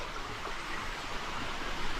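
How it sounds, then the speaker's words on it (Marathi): Steady broadband rushing of flowing water from a stream in Sangameshwar, Ratnagiri, continuous and fairly close with no voices. "वाहत्या पाण्याचा आवाज"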